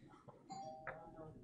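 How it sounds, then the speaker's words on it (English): A home doorbell sounds faintly during a Christmas video call, a brief single chime heard under nearby talking and room noise. "Doorbell."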